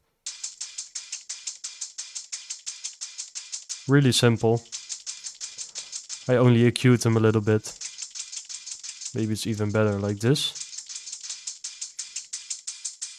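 Extra drum loops layered into a liquid drum and bass pre-drop in FL Studio, a quick, rattling hi-hat pattern ticking steadily throughout while someone talks over it in several bursts.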